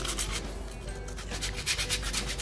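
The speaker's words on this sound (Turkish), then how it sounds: "Hiçbir şekilde kıymık kalmayacak şekilde parçalarımızı birer birer zımparalıyoruz." Wooden pieces sanded one by one with sandpaper by hand, giving steady rhythmic rasping strokes close up, with no voices.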